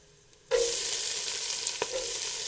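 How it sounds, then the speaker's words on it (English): Celery and garlic hit hot oil with a sudden loud sizzle after near-silence, then a sustained close frying hiss with a few stirring clatters, no talking. "I'm going to give it 2 minutes to kind of stir fry this"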